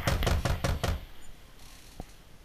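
A loud bang at a door in the visual novel Katawa Shoujo: a rapid series of about five heavy knocks, then a pause and one final softer knock.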